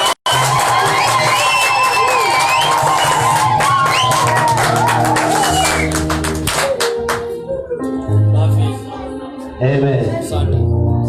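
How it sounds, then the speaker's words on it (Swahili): A church congregation cheers with high, trilling ululation and shouts over clapping, loud and close, then fades into scattered voices and claps. "shangwe na vigelegele"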